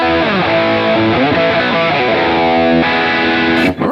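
Electric guitar through a Bias FX 2 rock distortion patch with light reverb, loud and close, playing sliding distorted notes and sustained chords with a gentle reverb tail.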